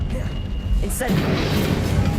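Incendio fire spell cast in Hogwarts Legacy, a sudden whooshing burst about a second in, followed by a sustained crackling roar of flame over steady game ambience.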